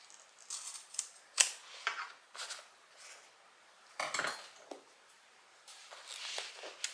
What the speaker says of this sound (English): I'm just going to kind of stick my scissors behind that seam and just cut up to cut some of the bulk out.